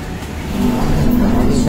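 Electric bus riding through the city, a steady low road and motor hum swelling slightly louder partway through, with a faint thin whine on top.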